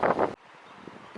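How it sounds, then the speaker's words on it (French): Wind buffets a phone microphone at a coastal viewpoint in Portugal. One brief, loud gust rumbles at the start and then drops away to faint, breezy background noise. "Désolée pour le vent"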